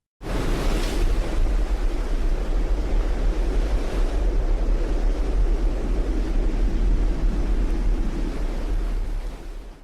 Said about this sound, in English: this house camera captures a tornado devastating the neighborhood, the force of the wind unparalleled